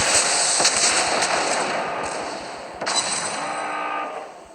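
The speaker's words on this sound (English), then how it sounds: "The Yahagi's already shooting at us" Naval gunfire from the cruiser Yahagi in World of Warships Blitz: a handful of sharp, distant-sounding booms over a steady broadband roar of wind and sea, spaced irregularly through the stretch.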